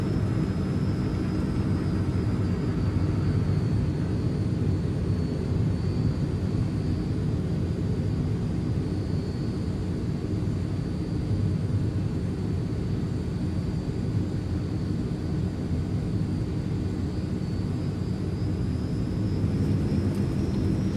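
Engines of a Transall C160 cargo plane on landing approach in a flight simulator, a steady loud propeller-engine drone with a faint high whine above it, unbroken and without talk.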